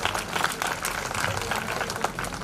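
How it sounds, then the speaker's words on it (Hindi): An audience at a community awards ceremony breaks into steady, dense applause, a continuous wash of clapping from a moderately sized crowd with a voice faintly audible beneath it. "जोरदार तालियों से इनका स्वागत किया जाए"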